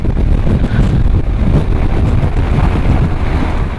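Loud, steady wind buffeting the microphone at St. Louis Downtown Airport, a continuous roaring rush with no pauses.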